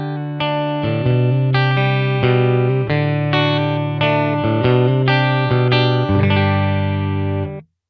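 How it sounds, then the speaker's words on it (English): An electric guitar through a Kemper Deluxe Reverb amp model plays a sequence of clean, slightly driven plucked chords and notes with a warm tone and a touch of reverb. "Deluxe reverb"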